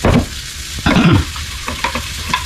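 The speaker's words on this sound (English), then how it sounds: "just kind of stir that in" Butter, honey and Red Hot sauce being stirred together, with short scraping, sizzling bursts of a spoon working through the mixture, loud and close, in a few uneven strokes.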